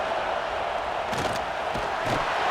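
A stadium crowd cheers in College Football 26 during a Mississippi State vs Texas A&M game, a steady roar with a few louder swells rising briefly in the middle and near the end.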